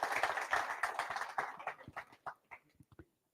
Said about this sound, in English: let's give Tommy Mitchell a round of applause